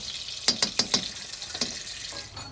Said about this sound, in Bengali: তুমি ঘি দিয়ে আলুটা ভেজে নেব বিরিয়ানির জন্য